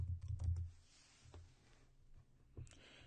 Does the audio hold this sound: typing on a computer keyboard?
yes